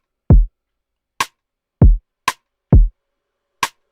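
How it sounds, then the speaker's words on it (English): An Afro swing drum beat programmed in FL Studio plays alone without the iron pusher: three deep booming kick hits alternate with three short, sharp snare or clap hits in a sparse, even pattern. "So without the iron pusher, the drum sounds like this."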